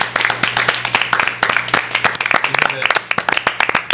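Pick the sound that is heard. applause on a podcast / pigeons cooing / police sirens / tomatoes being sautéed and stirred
applause on a podcast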